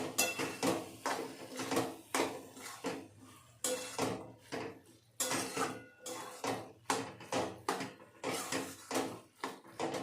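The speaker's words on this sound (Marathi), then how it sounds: "आणि आता परतून घेऊया छान" Mixed vegetables with garam masala being sautéed in a pan, a close, rhythmic series of spatula scrapes and metallic clinks against the pan, repeating about every half second with brief pauses and no talk.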